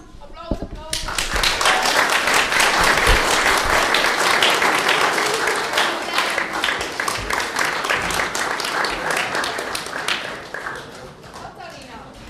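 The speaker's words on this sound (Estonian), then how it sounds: "aplaus, aplaus" An audience at a school concert claps loudly for a performer, rising into dense applause that holds, then thins into scattered claps toward the end, with a voice speaking over it at times.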